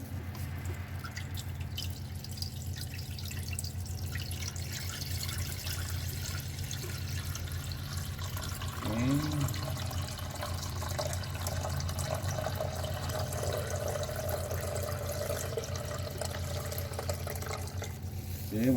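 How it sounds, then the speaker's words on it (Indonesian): Water poured slowly into a container during a fluid physics lab experiment, making a steady, soft trickling wash that runs continuously and fairly quietly, with a few brief brighter splashes partway through. "Kita masukkan air pelan-pelan."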